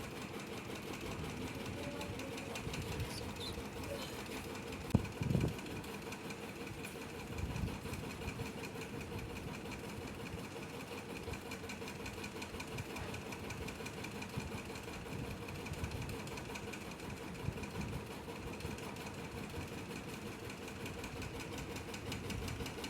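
A sewing machine top-stitching a farshi salwar runs in a steady mechanical whir at moderate volume, continuous for the whole stretch with a couple of brief knocks near the start.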